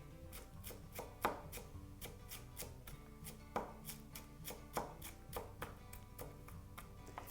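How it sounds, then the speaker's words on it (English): A knife chops fresh parsley on a cutting board in a series of rapid, steady taps, close and clear, with a few harder knocks among them. "So I'm just going to chop up the parsley."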